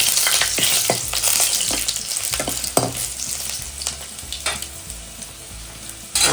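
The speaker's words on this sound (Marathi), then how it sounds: "आता फोडणी आपली लालसर होत चालली आहे" Mustard-seed tempering (phodni) with garlic sizzles loudly in a pan, crackling and spitting with sharp pops over a steady hiss, close and alone, briefly stirred, for fish curry.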